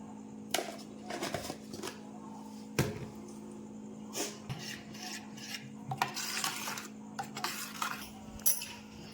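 Beaten egg batter with salt and chili powder is whisked for an omelette, a spoon or fork scraping and clinking against the bowl in irregular bursts, close and fairly quiet over a constant low hum.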